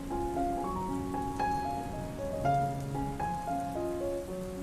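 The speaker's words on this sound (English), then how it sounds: "The gentle pitter-patter of raindrops and the soothing melodies set the stage for an optimal creative experience." Steady rain pattering under a slow, gentle melody of sustained tones, soft and continuous throughout.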